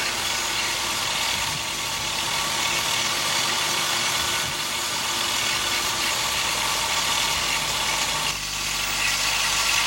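A vintage Allis-Chalmers tractor engine runs steadily at idle, a continuous close mechanical drone with a faint knocking rhythm throughout and no voices.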